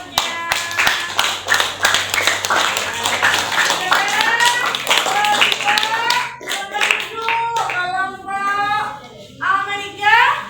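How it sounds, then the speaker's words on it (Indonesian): Applause for a presenter in a classroom, scattered clapping running under children's chatter and talking throughout. "Tepuk tangan buatnya."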